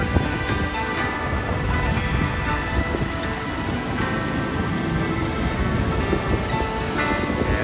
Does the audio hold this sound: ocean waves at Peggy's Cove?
yes